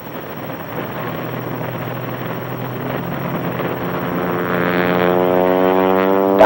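Engine of an aerobatic aircraft building power as it rolls down the runway toward takeoff, a steady loud drone whose pitch climbs gradually, with wind buffeting the microphone.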